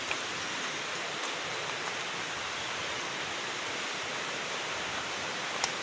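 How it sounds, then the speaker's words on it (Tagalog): Strong river current heard from a mountain trail some distance from the riverbank, a constant, even roar of rushing water that stays steady and loud throughout with no voices. "Malakas yung agos ng tubig."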